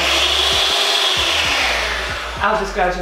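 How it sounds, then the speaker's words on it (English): Soft brown sugar being beaten into cake mixture for a white chocolate fudge cake with an electric whisk: a steady, loud, close motor whine throughout, with faint rhythmic bumps of the beaters against the bowl. "we'll add a little bit of our soft brown sugar just now, and then you start whisking"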